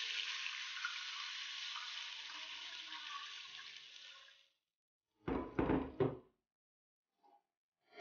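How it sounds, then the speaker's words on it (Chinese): Sichuan peppercorns, shredded scallion and ginger stir-fried in hot oil, a steady broadband sizzle lasting several seconds and fading out, followed by a short burst of clattering after a pause. "再次热油，放花椒、葱丝、姜丝，炒香后加适量水"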